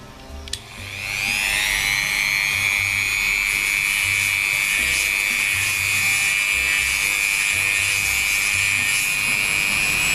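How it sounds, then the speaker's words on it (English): A Dremel rotary tool spins up with a sharp start and holds a steady, loud high-pitched whine as it strips detail from a small photo-etched metal part, running alone throughout. "here's a Dremel,"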